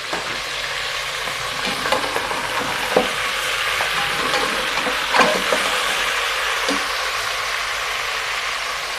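Onion, four tomatoes and two green chillies frying with mutton for Peshawari namkeen gosht, a steady close sizzle broken by clanks and scrapes of a spoon stirring the pot.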